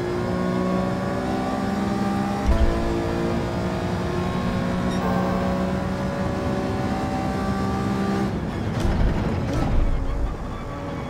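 An Alfa 155 DTM race car engine in Gran Turismo 7 drones steadily at high revs throughout, loud and continuous, with shifts in pitch as the car speeds through the track and a brief change near the end.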